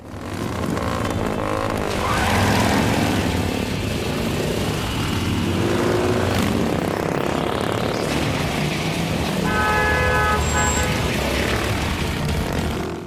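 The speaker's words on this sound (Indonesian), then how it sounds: "ia pun menantang Tsukumo untuk balapan. Sehingga mereka balapan saat itu." Motorcycle engines roar loudly and continuously as the bikes race past, with a high revving whine and a brief skidding sound near the end.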